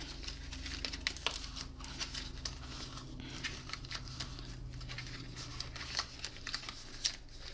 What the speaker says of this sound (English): So I'm just going ahead and folding up the box along all the score lines.